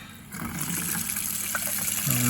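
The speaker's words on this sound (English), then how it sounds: "Water coming out of the tap." A tap starts running into a sink, a growing splash and gush of water close by, with a voice talking faintly in the background.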